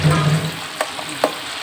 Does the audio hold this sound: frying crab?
yes